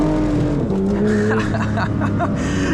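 A 2024 Porsche 911 GT3 in track mode lapping a low-grip Figure-8 test track, with steady loud engine drone and changing pitch and faint tire scrub. It runs continuously at close range, with a voice briefly audible over it.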